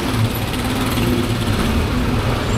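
Motorcycle engine running in heavy traffic, a steady close buzzing drone with a low rumble beneath, continuous and fairly loud without pause.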